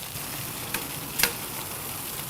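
Wagyu burger patties sizzle and fry steadily on a griddle, a constant crackling hiss with a couple of brief louder pops.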